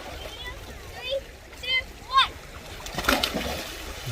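People plunge under crystal-clear water together, making a brief splash and slosh near the end, with excited voices and a child's chatter calling out just before.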